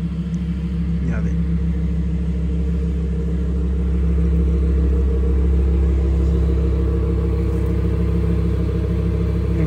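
A Lamborghini Huracan with a 5.2-litre V10 and titanium exhaust idles and revs inside a tunnel, a loud, deep, steady engine rumble that swells gradually, echoing and close throughout.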